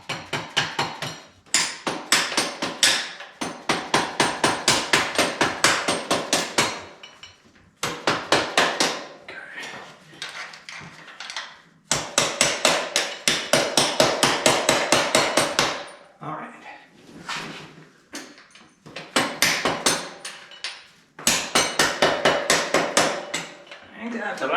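A hammer taps rapidly on a part of a 1981 Can-Am 250 motorcycle, loud metallic rat-a-tat bursts in several runs separated by short pauses, close up.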